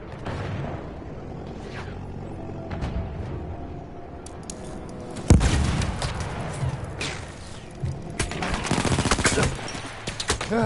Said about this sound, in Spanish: escucho los balazos por todos lados